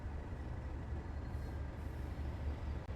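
Class 375 electric train idling in the Train Sim World 5 simulator, a steady low rumbling hum with constant level and no sharp events throughout.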